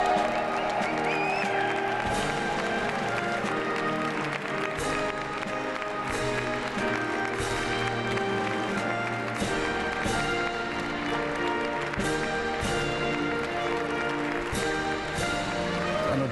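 A large crowd at a presidential inauguration applauds steadily as Donald Trump walks out, a dense, continuous wash of clapping heard from a distance, with faint voices underneath.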